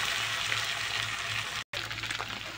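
Potatoes fry in hot oil in a kadai for a Bengali egg curry, producing a steady close sizzle and hiss with faint stirring, broken by one momentary dropout.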